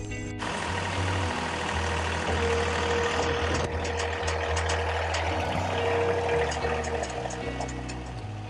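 A tractor engine idles steadily at a low level, a continuous mechanical rumble with a faint high beeping tone and some clatter layered over it.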